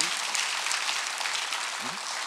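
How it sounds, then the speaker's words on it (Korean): A church congregation at a Korean Sunday worship service applauds, a continuous wash of clapping from many hands with a brief voice rising through it near the end. "박수 한번 더 주세요"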